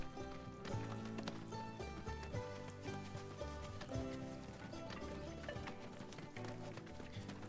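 Horse hoofbeats while riding in Final Fantasy VII Rebirth, a steady clip-clop rhythm running under a dense layer of game music throughout.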